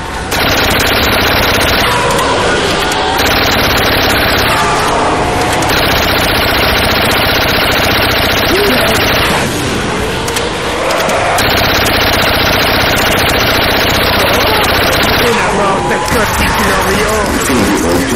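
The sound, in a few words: gunfire from a weapon in Black Ops zombies video game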